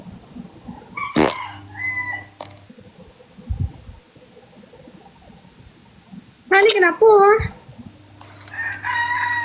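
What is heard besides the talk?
rooster crowing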